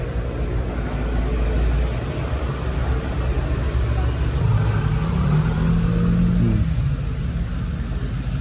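A Mitsubishi Pajero Sport Army Type jeep engine idles steadily, a loud, continuous low rumble close by that stays constant throughout.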